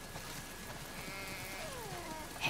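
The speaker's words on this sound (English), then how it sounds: "We definitely have way too many sheep." Sheep bleating on a farm in the video game The Last of Us 2, a few soft wavering bleats mixed into a steady rain-like background hiss, fairly faint and with no talking.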